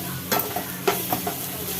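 Chili powder mixture being stirred in a hot cooking pan, with a few distinct scraping strokes over a soft, steady sizzle of frying food.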